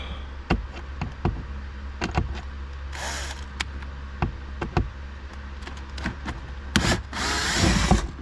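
Tools work at the glove box of an Audi Q7 3.0T, giving sharp knocks and clicks at irregular intervals and a couple of short bursts of a whirring power driver, close up and without talk.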